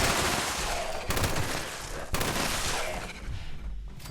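A TSE LMG machine gun in Fallout 76 fires in long, dense automatic bursts, loud and close, with a brief break between volleys and a faint voice under the gunfire.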